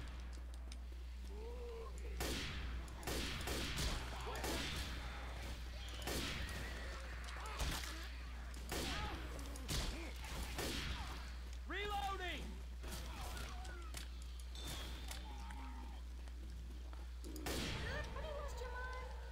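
Gunfire in the zombie shooter Left 4 Dead 2: scattered sharp shots across the clip, moderately loud, mixed with in-game noise and players talking over a steady low hum.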